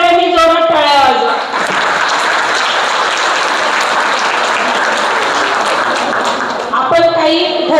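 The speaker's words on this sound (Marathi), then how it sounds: "स्वतःसाठीच एकदा सगळ्यांनी जोरात टाळ्या वाजवा." A women's audience at a fabric painting workshop breaks into loud, sustained applause lasting several seconds, with a voice speaking just before and after.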